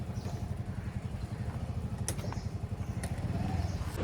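A rented two-wheeler motorbike is ridden in Goa, its small engine running with a steady, fairly close putter and clattering rhythm, plus a few faint knocks along the way.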